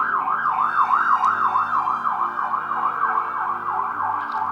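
A police car siren wails nearby as a car is pulled over, its rising and falling tone cycling rapidly and evenly throughout against low traffic rumble.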